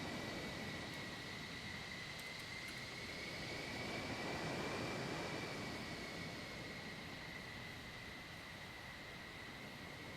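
F-14 Tomcat military jets taxi in a flight-simulation game, a steady broadband engine roar with a sustained whine that swells slightly midway, continuous and moderately distant, with no voices.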